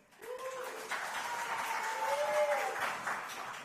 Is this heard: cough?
no